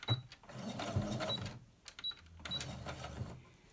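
A sewing machine stitches in rapid mechanical bursts with brief pauses between runs, close and moderately loud, with clicks of the mechanism.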